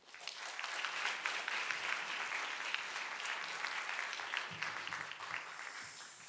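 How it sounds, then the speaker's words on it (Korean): A church congregation applauds steadily to welcome a missionary to the front during a Korean worship service. The clapping is full and sustained, then thins toward the end, with faint voices underneath. "나오실 때 우리 큰 환영의 박수"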